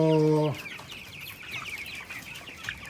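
On a poultry farm, a loud, tonal chicken call opens, then soft, scattered clucks and chirps continue at a distance.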